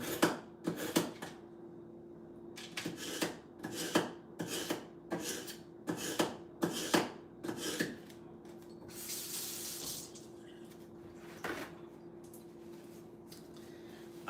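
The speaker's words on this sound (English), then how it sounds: "This is a Good Cook knife sharpener." A knife is pulled through a Good Cook knife sharpener in a kitchen. About a dozen rhythmic rasping strokes come at close range, then water runs from a tap as it is rinsed.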